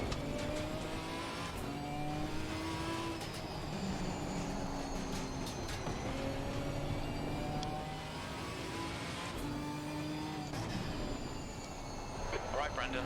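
GT4 race car engine in Assetto Corsa Competizione at Laguna Seca, droning steadily throughout with rising and falling gear-change sweeps, loud and continuous.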